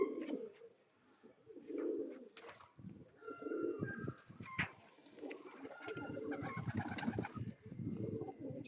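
Young home-bred pigeons, among them Madrasi Fulsira, Pilanka, Kalanka, Tippler and Kaldam birds, coo in bursts of low throaty rolling calls, several overlapping at close range, with a soft wing flutter now and then.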